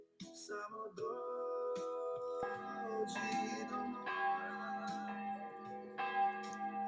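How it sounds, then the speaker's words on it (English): Church bells ringing at 7 p.m. in the town of Osor, Croatia, in overlapping, sustained tones, several strikes layering into a resonant chime with a long ring-out. "These are the church bells that were ringing at 7 p.m."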